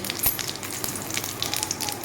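Whole cumin, bay leaf and whole garam masala of cardamom, cinnamon and cloves fry in oil, giving a steady crackling sizzle with small pops, alone and moderately quiet.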